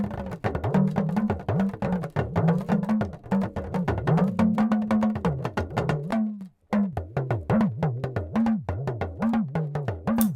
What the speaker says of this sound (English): And the talking drum sounds like this.